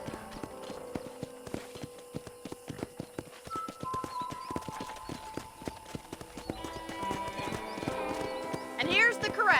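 Horses at a ranch corral in the Red Dead Redemption video game, with hooves clip-clopping in scattered steps and an occasional whinny, while people talk over the sounds and faint music rises toward the end.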